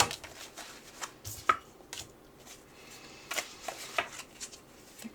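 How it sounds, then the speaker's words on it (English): Tea leaf oracle cards shuffled and pulled from a deck for a full moon reading, giving soft, irregular papery riffles and taps close by, with a few sharper flicks as cards are drawn, and no talking. "I will pull some tea leaf cards to go with this too"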